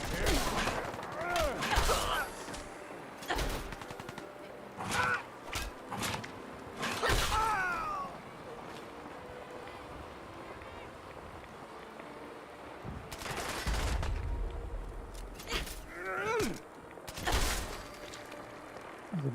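Bursts of gunfire from enemies in Fallout 4, a few short volleys spread across the span, mixed with game effects and some voice.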